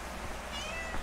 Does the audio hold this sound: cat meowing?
yes